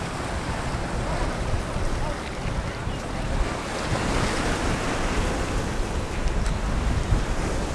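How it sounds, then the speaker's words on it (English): Strong wind buffets the microphone at a busy Pattaya waterfront pier with boats, a dense continuous roar mixed with surf, loud and unbroken, with faint voices in the background. "Super windy right now too."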